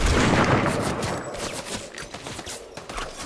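Shots in Fortnite, including sniper rifle fire, come as a loud cluster of sharp cracks and booms early on, followed by scattered lighter shots fading off.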